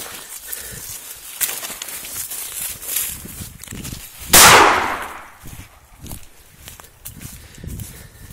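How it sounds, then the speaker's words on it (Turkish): Blank cartridge fired outdoors during a wild boar drive, a single loud sharp bang around 4.4 s with a trailing burst of noise, amid footsteps and rustling movement before and after. "Bu arada bu kuru sıklar çok pis patlıyor."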